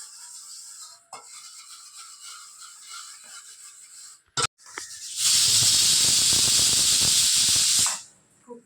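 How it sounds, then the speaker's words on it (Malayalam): A loud, sustained hissing whistle of a pressure cooker releasing steam for a few seconds, preceded by quieter hiss and clatter. "കുക്കർ ഒരു വിസിൽ അടിച്ചിട്ടുണ്ട് കേട്ടോ"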